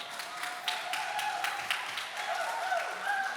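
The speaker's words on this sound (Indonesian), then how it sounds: "Kita berikan tepuk tangan untuk Bapak Masirom" A small press-event audience claps for a presenter, producing a modest, scattered patter of claps at a moderate distance that continues briefly.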